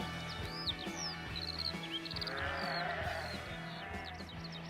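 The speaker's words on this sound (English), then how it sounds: "as the guitars gradually recede into the distance, you hear the sound of sheep in the fields gradually coming up to replace it" Sheep bleat repeatedly in open fields as a rock song's guitars fade away, the calls faint to moderate and layered with a few bird chirps over a steady low background hum.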